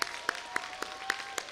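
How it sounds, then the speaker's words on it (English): Applause for the event sponsors at an awards event, heard as a faint, distant scattering of claps with a handful of distinct hand strikes spaced out over a couple of seconds. "Let's give a big round of applause to our sponsors."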